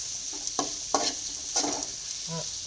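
Chopped onions stirred and frying in a pan for an egg curry, with a steady sizzle under a few soft scrapes and clinks from the spoon, close and moderately quiet, no talking.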